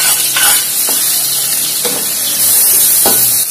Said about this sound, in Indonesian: tumis bumbu halus.